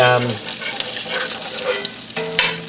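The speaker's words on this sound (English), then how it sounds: "As soon as those eggs are ready to be flipped over, I'm going to flip them over on top of bacon." Eggs frying in a pan on top of bacon, a steady crackling sizzle with stirring and scraping sounds close by, no talking.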